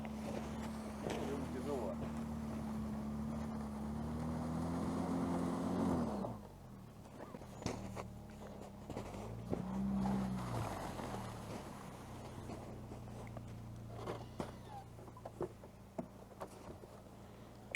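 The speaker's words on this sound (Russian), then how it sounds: "как он сейчас будет проезжать, чтобы увидеть, как колеса его буксуют" A Haval Dargo X strains with its wheels spinning in place, a steady whining engine drone that stops suddenly partway, then quieter engine surges, with people talking nearby throughout.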